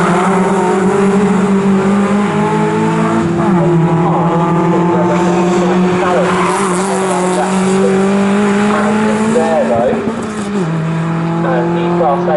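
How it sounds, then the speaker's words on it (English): MG Trophy race cars lap the Snetterton circuit, several engines droning and shifting pitch as they pass at speed, with a commentator talking continuously over the racing noise. "The Class B cars now head underneath the vehicle bridge into Brundle."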